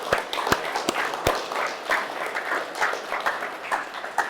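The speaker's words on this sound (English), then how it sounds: "Give him a round of applause." Applause breaks out at a team update meeting, a few sharp, close individual claps at first, then a steady wash of clapping from the room, fairly loud.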